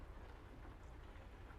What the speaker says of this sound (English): it's raining because I turned the rain function back on